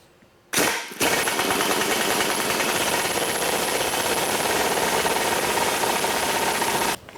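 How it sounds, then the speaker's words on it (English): Impact wrench hammering continuously on a 2001 Ford F-series 5.4L truck U-joint to press it out, a loud, steady rattling burst that starts abruptly after a brief pause and runs for about six seconds, close up. "After cranking on this a little while, we can see that our U-joint is starting to come out."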